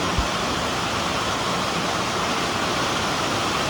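A continuous rushing splash of water pouring from a pipe into a tank, loud and steady from start to finish.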